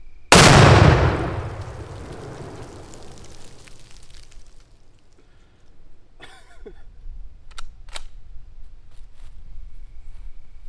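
A Mossberg MVP .223 rifle shot sets off a pound of tannerite packed in pumpkins, one loud, close blast that booms and rolls away over several seconds, followed by faint outdoor rustling and small knocks.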